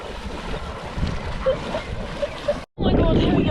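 A cold, strong river on New Zealand's South Island rushes and splashes close by under a bridge, with wind gusting on the microphone and a brief dropout near the end.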